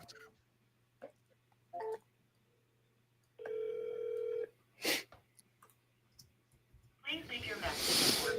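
Phone call being placed, with short electronic dial tones and a longer steady tone heard amid sparse clicks and quiet handling noise, followed by a person speaking at the end.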